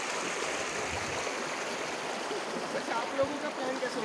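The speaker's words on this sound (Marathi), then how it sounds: "ही आमली नदी," Continuous rushing of the small Amli river stream near a village, even and fairly loud, with soft talk in the background.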